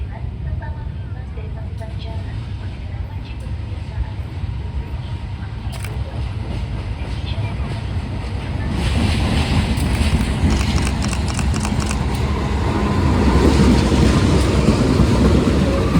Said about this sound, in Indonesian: Ini ada lokomotif White and Blue yang Dinas Kereta Api Logawa bakal masuk Lempuyangan ya